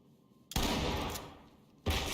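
A breaching charge blows a door lock in the tactical shooter game Ready or Not: a loud, close blast with a long rumbling decay, then a second heavy boom right at the end.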